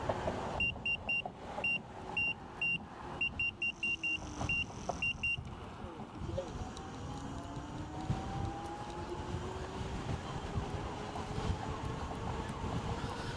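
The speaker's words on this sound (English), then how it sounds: "the signal is not as loud. I think it's coming from the display, as usual." A 60V Motor Goat V3 electric bike's display gives a series of thin, high repeated beeps in an irregular pattern over the first five seconds, riding above loud wind and road rumble that continue alone afterward.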